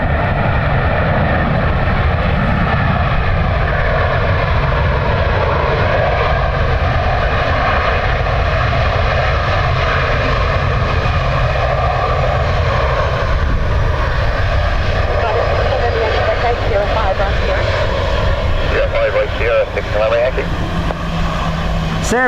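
An airliner arriving in a crosswind at Dublin Airport produces a loud, sustained jet engine roar with slowly shifting tones, heard from nearby, while a voice talks over it.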